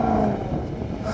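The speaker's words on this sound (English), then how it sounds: "Go on, rev the Jag." A Jaguar XE SV Project 8 in its sporty setting revs hard with no soft limiter, a loud, steady engine roar held close for a brief moment.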